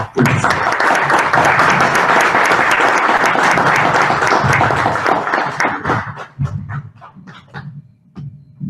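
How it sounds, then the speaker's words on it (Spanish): An audience at an academic radio astronomy lecture breaks into loud, dense applause for the introduced doctor, sustained for several seconds before thinning into scattered last claps. "Les pido, por favor, un aplauso para el doctor"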